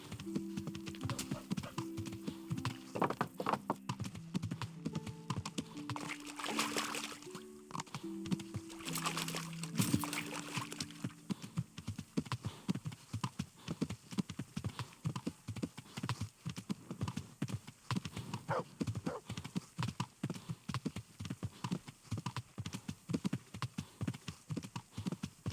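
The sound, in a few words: horse hooves clip-clopping in the video game Kingdom Come: Deliverance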